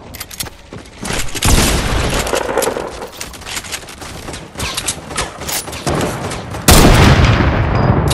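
Video game gunfire rattles out in rapid bursts, loud and close, with sharp single shots at first, then sustained automatic fire and a heavy blast near the end.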